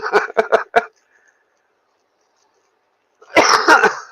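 Close, loud coughing: a rapid string of four harsh coughs, a pause of silence, then another tight burst of coughs.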